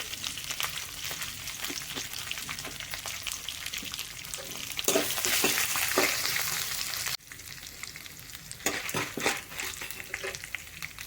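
Curry leaves, dried red chili and asafoetida stirred in a frying pan for mango rice: steady crackling sizzle with repeated spoon scrapes against the pan, swelling louder midway, then briefly dipping before the stirring continues.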